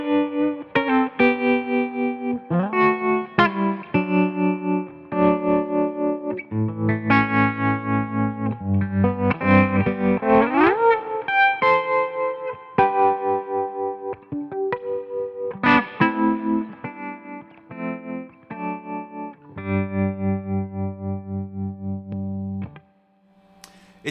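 Heavily processed electric guitar plays a melodic line, distorted and chorused with shimmering sustain, notes changing steadily throughout, no talking.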